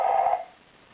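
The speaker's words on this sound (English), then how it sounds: "I think that sounds like a twin bell alarm clock." A talking clock sounds a brief alarm resembling an old-fashioned twin bell alarm clock, a short ringing burst that fades out within half a second, heard alone.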